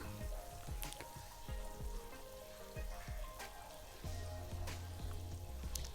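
A tablespoon of garlic fries over high heat in a pan for cauliflower manchurian. It gives a fairly quiet, steady sizzle with scattered pops and crackles, and there is no talk.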